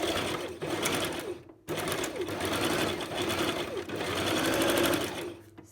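A sewing machine stitches an elastic waistband in white thread, running loud and close in quick bursts, pausing briefly and restarting as it sews forward and back several times.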